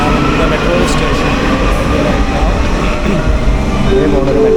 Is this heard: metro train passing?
yes